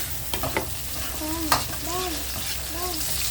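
Carrots fry in a hot pan for escabeche tilapia, giving a steady, close sizzle with a few stirring scrapes and a voice speaking briefly over it.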